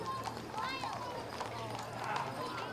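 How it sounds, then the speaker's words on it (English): A paint horse's hooves clip-clop on pavement during an outdoor horse and carriage parade at a strawberry festival, a steady walking rhythm under continuous talk and crowd noise. "Very nice little paint horse."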